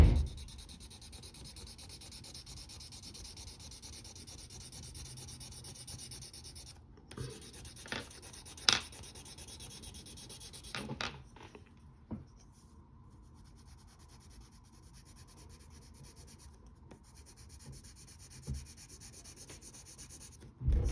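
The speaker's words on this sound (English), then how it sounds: "shade in his shirt. And use the side of your pencil or your crayon" A pencil's side rubs steadily across paper in soft, continuous shading strokes, faint and close, with a few small taps and pauses partway through.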